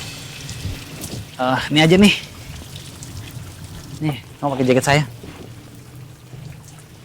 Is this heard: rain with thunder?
yes